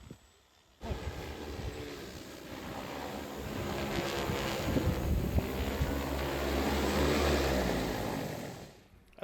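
A T10 agricultural spraying drone flies over an alfalfa field in some wind, its rotors making a steady, loud whir and roar that holds through the clip, with wind buffeting the microphone and no speech.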